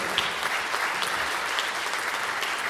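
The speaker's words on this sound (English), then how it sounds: "A big round of applause for them." Steady, full audience applause in a concert hall for the Queensland Philharmonia orchestra of conservatorium and school students, dense continuous clapping with no voices on top.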